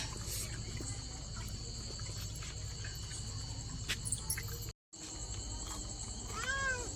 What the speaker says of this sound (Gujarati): તો કઈ છે અમારી એક બચ્ચું બિલાડી ત્યાં